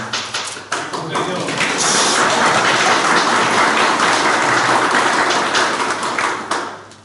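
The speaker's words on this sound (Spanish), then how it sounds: "esos aplausos para el Señor" A church congregation breaks into sustained applause, a dense wash of many hands clapping that swells after a few early claps and holds steady, fairly loud and close, before tapering off.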